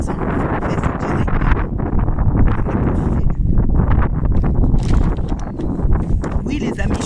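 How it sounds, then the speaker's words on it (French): Strong wind buffeting a microphone outdoors on a sunny day, loud rumbling gusts that surge and drop throughout, with a voice talking underneath. "le vent, il est tellement fort malgré le gros soleil, que ça m'emporte tout"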